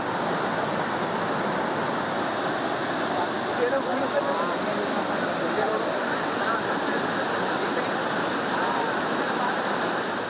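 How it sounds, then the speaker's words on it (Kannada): Steady, dense roar of Mallalli waterfall in Kodagu, Karnataka, swollen by heavy rains, broadband rushing water filling the whole stretch with no breaks. "ಧುಮ್ಮುಕ್ಕುತ್ತಿರುವಂತಹ ಜಲಧಾರೆ"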